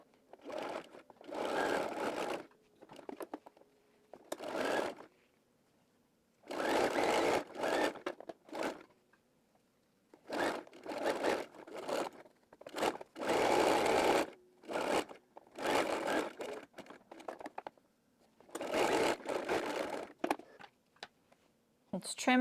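A sewing machine stitches the edges of a collar for a Hazelton wrap dress in repeated bursts of steady whirring, each lasting one to two seconds, separated by short pauses.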